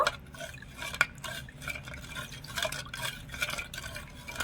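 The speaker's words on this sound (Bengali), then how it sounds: "এবারে ভালো করে একটু নেড়ে ছেড়ে মিশিয়ে নেব" Milk mixture with cardamom powder stirred in a bowl, soft liquid swishing and light clinks of a spoon against the sides, steady and close, no voices.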